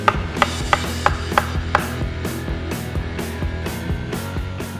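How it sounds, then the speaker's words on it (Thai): A knife slicing ready-made food thinly on a cutting board, with a run of crisp, evenly spaced chopping taps that start sharp and grow softer, against a quiet background. "ก็หั่นบางๆนะครับ"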